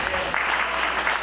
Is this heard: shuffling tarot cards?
no